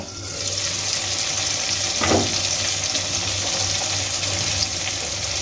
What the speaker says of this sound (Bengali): টমেটোগুলো বেশ কয়েকবার নাড়িয়ে চাড়িয়ে আমি ভেজে নিয়েছি